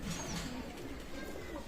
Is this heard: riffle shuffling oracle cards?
no